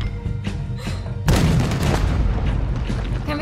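Cannon firing in Red Dead Redemption 2: a muffled boom lands about a third of the way in, then a heavy rumbling tail, after quieter thumps and game ambience.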